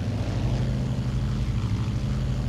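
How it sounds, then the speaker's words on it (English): A Douglas World Cruiser's engine drones steadily in flight, a loud continuous low rumble with a throbbing propeller beat that fills the whole stretch without pause or talk. "Just hear the engine."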